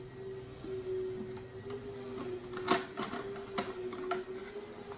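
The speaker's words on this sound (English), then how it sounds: "First thing you need to do is remove the screw that holds the battery cover." A screw is backed out of the battery cover on an E Lox lock, giving a close run of small scraping clicks and ticks over a steady electrical hum.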